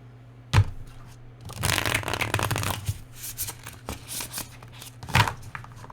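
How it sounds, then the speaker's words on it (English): A tarot deck is shuffled up close, giving a sustained riffling, papery flutter bracketed by two sharp taps of the cards, over a steady low hum. "I'm going to shuffle this deck first"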